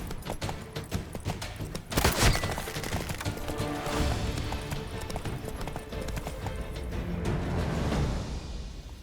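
Hooves clip-clop steadily as a horse is ridden in The Witcher 3, a continuous galloping rhythm with game ambience, near and fairly loud, with no talking.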